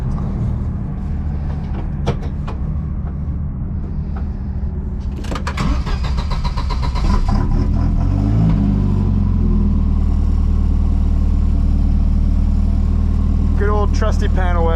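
A 450hp big-turbo panel wagon with a history of head gasket trouble, heard at a drift track: a loud, steady engine rumble that builds and rises in pitch partway through, with a voice speaking over the start.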